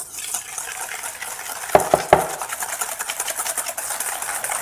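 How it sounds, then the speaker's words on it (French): Egg yolks and sugar whisked together in a bowl for a praline cream, a steady close scraping and swishing with three sharp clinks of the whisk against the bowl partway through. "dans les jaunes d'œufs, on va ajouter le sucre en une fois et puis on va commencer à fouetter"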